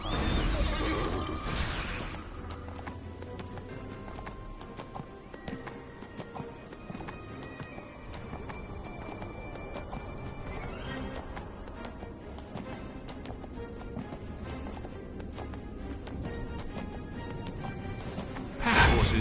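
Pack horses in the Neverwinter video game, whinnying loudly at the start and end with a steady clip-clop of trotting hooves running underneath throughout, close and fairly loud.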